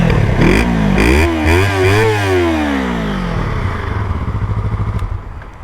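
A warm motorcycle engine with a stock exhaust revs up sharply a few times, its pitch rising and falling, then settles back to a rough, close idle.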